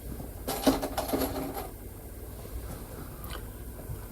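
A sewing machine stitches quilt pieces together in a quick burst of clattering needle strokes, then stops, leaving a quiet room with a few soft handling clicks.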